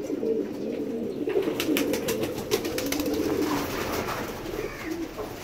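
Pigeons coo on a rooftop in repeated low, throaty rolling calls, close and steady, with faint rustling and light ticking sounds around them and no talk.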